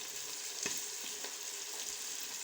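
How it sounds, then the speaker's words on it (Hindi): Soaked lentils, mixed with a little rice, sizzling in hot oil in a pan for chicken haleem, a steady close frying hiss with a couple of soft stirring knocks. "और अब हम इसमें डालेंगे दाल अपनी हलीम जो हमने बनाने के लिए भिगो के रखी है।"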